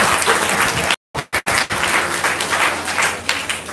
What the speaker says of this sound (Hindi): अपने आप को तो तालियां बजाओ